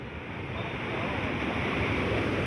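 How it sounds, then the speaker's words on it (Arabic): Rough sea waves wash steadily against the rocky fishing spit of Cleopatra's Tongue in Alexandria, a broad continuous surf roar mixed with wind rumble on the microphone, no voices. "بس البحر يعني عالي شوية كده، بس جميل الصراحة"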